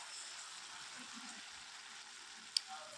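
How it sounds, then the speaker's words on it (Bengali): Mustard and poppy seed paste masala frying in a pan with fish, a soft continuous sizzle with quiet spatula scrapes and one sharp tap of metal against the pan near the end. "তারপরে এটাকে ভালো করে খুন্তি দিয়ে নেড়ে চেড়ে নেব।"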